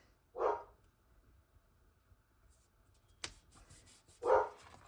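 Two separate dog barks a few seconds apart, fairly close, with a brief rustle between them in an otherwise quiet room.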